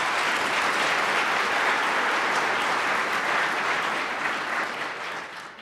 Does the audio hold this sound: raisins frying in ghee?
no